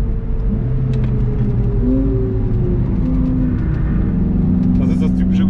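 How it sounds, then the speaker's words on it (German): Cold tires on a Porsche GT3 lapping the Nordschleife during a public driving session give a loud, constant in-cabin drone, with a low rumble and wavering tire tones that shift as the car moves. "Das ist das typische Geräusch von Reifen,"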